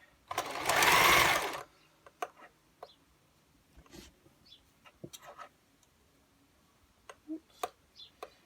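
A sewing machine stitches a gathered gypsy skirt in one loud, close burst of whirring, followed by quiet clicks and light handling of fabric.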